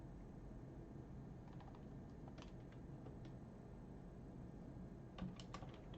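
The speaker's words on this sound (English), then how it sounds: "It doesn't like me typing the letter D." Faint keystrokes on a computer keyboard during a live coding session, scattered light clicks in small clusters over a quiet hum, with a brief quicker burst of taps toward the end.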